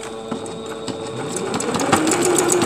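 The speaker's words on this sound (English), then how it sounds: "Let me get it sewed down." Sewing machine stitching beginner quilt pieces, a steady close mechanical whirr with a fast rhythmic clatter that runs unbroken and grows slightly louder.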